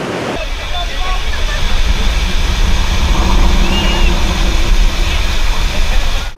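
River rapids on the Kampar River at Gopeng, Perak, used for white-water rafting, give a steady, full roar of rushing water that stays loud and even throughout.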